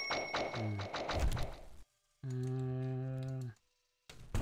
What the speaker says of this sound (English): I have like this expensive keyboard that I'm not using just because it's loud.